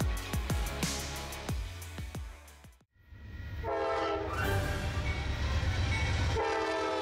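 A passenger train crossing the American continent sounds its horn in a series of loud sustained blasts, then the noise drops away briefly before the deep rumble of the passing train swells back, close and heavy.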